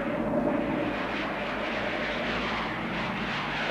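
Aircraft engine drones steadily on an airfield in a French action film, a loud continuous roar with no talk over it throughout.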